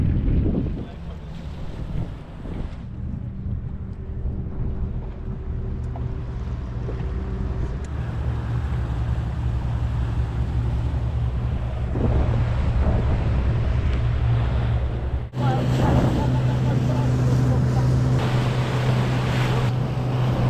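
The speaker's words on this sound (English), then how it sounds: "So that's the boat" A boat engine drones steadily on the Danube in Austria, mixed with strong wind buffeting and low rumbling throughout, shifting in tone partway through.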